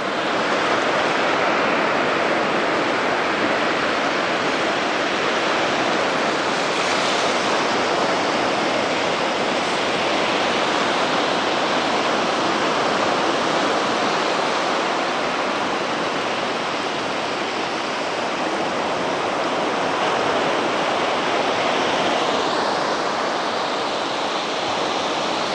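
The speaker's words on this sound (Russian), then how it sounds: "Давайте еще полюбуемся этим замечательным морем, послушаем его шум." Sea surf rolls onto a sandy dune beach near Anapa as a steady, loud, broadband wash of waves, continuous for the whole stretch with no voices.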